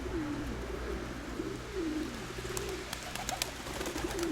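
Racing pigeons coo in low repeated rolling calls over steady background hum, with a few faint clicks and rustles near the end.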